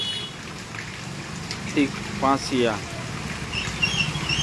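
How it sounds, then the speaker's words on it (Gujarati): Unseasonal rain falls steadily in the town of Halvad, a soft continuous wash of noise beneath a voice talking over it. "હળવદમાં તો અત્યારે એટલે હમણાં થોડી 10-15 મિનિટ પહેલાં જે વરસાદ છે તે વરસાદ ચાલુ થયો છે"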